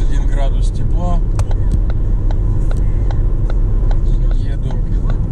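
A car drives along a road in warm morning weather, heard from inside as a steady loud rumble with road noise and a few faint clicks and chirps on top; no one speaks.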